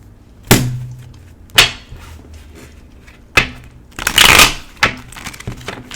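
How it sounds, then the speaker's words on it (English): A deck of tarot cards handled and shuffled in separate bursts: several sharp, close slaps and riffles spaced a second or so apart, with a longer flutter near the end and quiet between. "If you want a clear message, then it takes a little shuffling"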